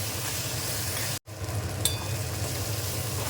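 Chili powder being stirred into frying food in a pan for a dry bangda fish dish, a steady close sizzle with a brief drop-out partway and light stirring scrapes.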